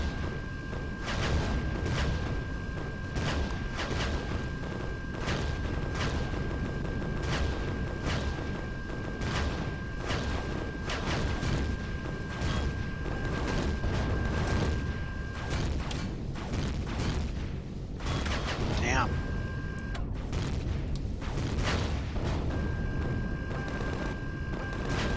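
Rockets launch and explode in the space game Empyrion, with a constant heavy rumble of booming blasts, a steady high tone through much of it and a brief whistling sweep near the end.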